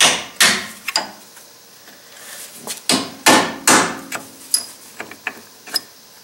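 A hammer strikes a chisel to drive rivets out of a Dodge Dakota upper control arm, giving a series of sharp, irregular metallic blows with brief ringing between them.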